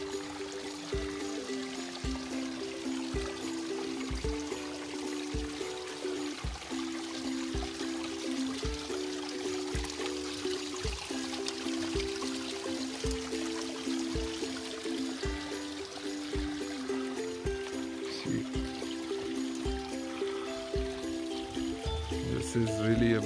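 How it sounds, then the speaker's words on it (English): Mountain water stream on the Triund trek near Dharamshala, a continuous faint rushing trickle heard from a distance under steady tonal background sounds. "a kind of water stream running"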